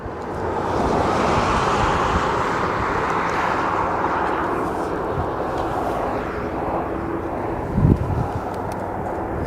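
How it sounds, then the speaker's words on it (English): A Sikorsky S-92A helicopter approaching Aberdeen Airport, a steady broad rotor and engine roar mixed with wind noise that slowly eases, with a brief thump near the end. "we've got a helicopter coming in, that private owner, Sikorsky S92A"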